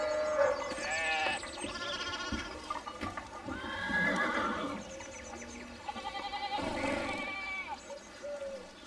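A horse neighing and bleating-like whinnies with hooves in the video game Pentiment: several drawn-out cries rise and fall over a soft bed of ambient sound, moderately close, with brief gaps between calls.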